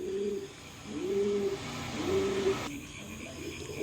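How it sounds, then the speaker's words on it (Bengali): A pair of Maxi racing pigeons coos in three soft, drawn-out phrases at a steady rhythm, close by and fairly quiet against a low background hum, with no talking. "দেখেন আরও এক পেয়ার মাক্সি কবুতর দিলাম।"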